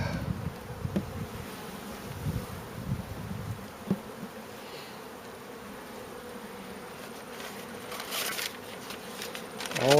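Honey bees buzz steadily around an open hive being fitted with an emergency winter sugar and pollen feed, a soft continuous drone with a few brief louder bee passes near the microphone.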